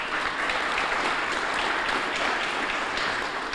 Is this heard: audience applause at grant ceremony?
yes